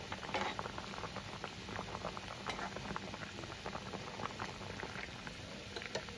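Fish curry with drumstick vegetables boiling in a pan, a steady bubbling and popping at close range that carries on evenly throughout with no voices.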